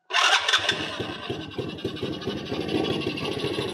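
A small motorcycle engine with a slipping clutch and badly tuned carburettor cranks and catches, then settles into an uneven, rough idle, loud and close.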